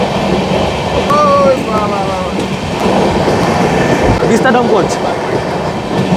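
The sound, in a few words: moving train, Balurghat SMVT Bengaluru Express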